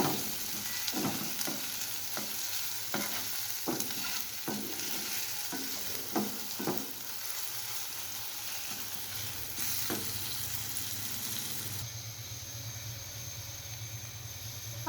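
An omelette mixture fries in a pan with a steady sizzling hiss. A spoon scrapes and stirs through it in a run of repeated knocks, then stops, and the frying carries on alone.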